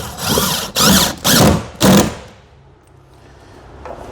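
Power driver sinking the last screws into a motor mount, four loud whirring bursts in quick succession of about half a second each, then a quiet tail.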